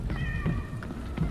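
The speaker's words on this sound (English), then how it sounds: "I heard a cat." A cat in a video game gives a drawn-out, high meow over a low rumbling background, followed by fainter short cries.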